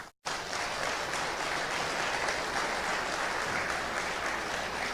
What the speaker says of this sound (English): Can we give a round of applause for them?